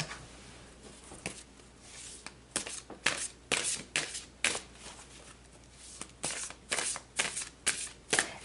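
Tarot cards being shuffled up close, with a run of crisp riffling flutters and slaps repeating in quick bursts, clear and alone without talking.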